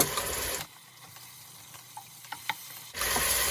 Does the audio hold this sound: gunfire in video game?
no